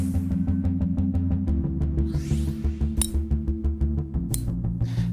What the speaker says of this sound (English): That is the sound of two of the top-selling game improvement irons on the market that are